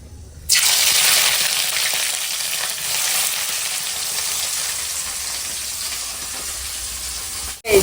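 Onions fry in a pan for a village-style kurma, a loud, steady hiss of sizzling that bursts in suddenly after a brief quiet start and continues evenly, ending with a sharp clatter, no talking.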